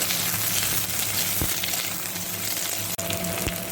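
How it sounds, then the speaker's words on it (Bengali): Potatoes sizzle and crackle in a hot pan with a constant frying hiss, broken by a couple of brief clicks from stirring. "এবার আমি কেটে রাখা আলুগুলোকে দিয়ে আবার একটু ভালো করে ভেজে নেব"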